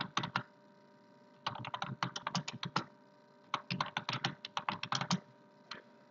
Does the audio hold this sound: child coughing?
no